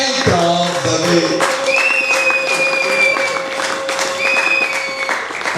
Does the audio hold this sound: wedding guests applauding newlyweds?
yes